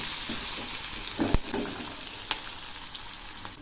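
Diced onion fries with a clove, white cardamom and pieces of garam masala in a pan, giving a constant close sizzle with a few knocks and scrapes from the stirring spoon.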